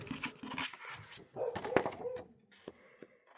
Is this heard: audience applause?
no